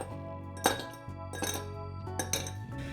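Glassware clinks and knocks as glasses are handled on a counter while a Tequila Sunrise cocktail is made, with a few distinct close chinks spread across a low steady background.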